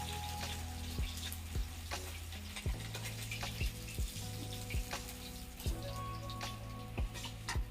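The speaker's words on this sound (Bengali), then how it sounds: "বাকি মাছগুলো ভাজা হয়ে গেছে" Tangra fish sizzling in a pan of hot oil, a constant crackling hiss broken by regular metallic taps of a spatula, heard up close without any speech.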